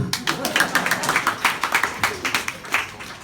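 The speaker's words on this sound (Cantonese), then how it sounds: "掌聲啦！" Concert audience applauding at a live music event in Hong Kong, a dense wash of many hands clapping with rapid irregular rhythm, moderately loud and steady, with a few voices mixed in.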